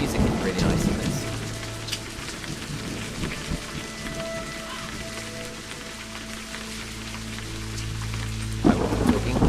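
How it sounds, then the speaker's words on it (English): Video game ambience of steady rain with deep rolling thunder, continuous and fairly loud, a sustained music tone underneath and a sharper rumble near the end. "the game rain and everything is on"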